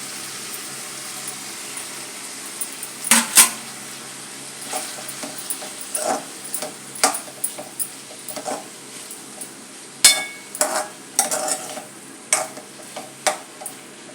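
Tomato pieces go into a pan of vegetables cooking for a vadiyala curry, with scattered clinks and scraping taps of a utensil against the pan over a faint sizzle, with no one talking.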